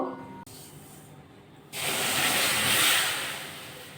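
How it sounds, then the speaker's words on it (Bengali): Sugar and water syrup in a kadai on a gas stove, rising into a steady, broad hiss as it begins to boil, loud and close after a quieter stretch. "শিরাটা দেখুন ফুটা আরম্ভ হয়ে গেছে"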